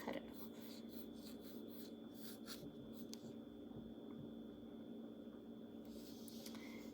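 Pen or pencil scratching lines on paper while sketching Daisy Duck, a steady soft scraping that runs on through the whole stretch with short stroke accents near the start, close and quiet under a constant background hum.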